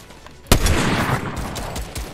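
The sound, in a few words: gunfire in Fortnite video game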